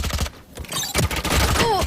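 Swarm grenades from Valorant burst in a rapid cluster of sharp pops and crackles, loud and close, with other game effects and a rising whistle-like tone layered in.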